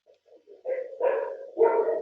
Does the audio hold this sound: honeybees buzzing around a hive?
no